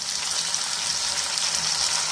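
Chopped tomatoes frying in a pan with garlic and onion for a Tamil aloe vera tamarind curry, giving a steady, close, even sizzle and hiss throughout with no talking.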